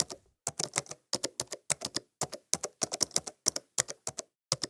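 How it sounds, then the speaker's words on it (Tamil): A computer keyboard is typed on in quick bursts of crisp, close keystrokes. The clusters are separated by short pauses, and no one speaks. "ஒண்ணு ஒண்ணா வந்து நம்ம டைப் பண்ண ஸ்டார்ட் பண்ணலாம்."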